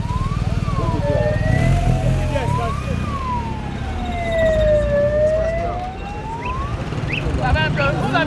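Civil fire brigade vehicles led by a motorcycle race through the streets of Daloa, their sirens wailing in loud, sweeping rising and falling tones over traffic rumble, with voices audible underneath.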